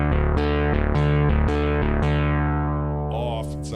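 Kawai SX-240 synthesizer playing a series of bright, buzzy sawtooth notes with its second oscillator DCO 2 switched on, thick and harmonically rich, in short repeated stabs before a held note, played alone without talking.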